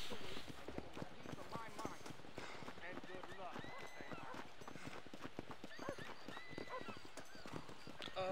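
Hoofbeats of a galloping horse in the Western video game Red Dead Redemption, a fast steady clip-clop with a whinny, running throughout beneath game sounds and someone talking.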